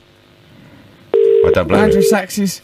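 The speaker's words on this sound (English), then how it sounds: "We can hear the phone ringing." A telephone rings down a call line in a radio studio, one steady electronic ring burst before a recorded voice and a host start talking over the line.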